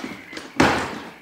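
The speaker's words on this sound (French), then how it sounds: "Fermez la porte." A door aboard the schooner Hispaniola shut firmly, a single sharp slam with a brief wooden thud, close and fairly loud after a faint scrape.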